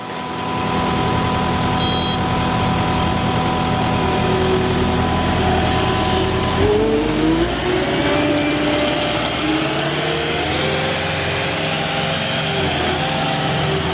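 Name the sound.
Kubota skid loader engine running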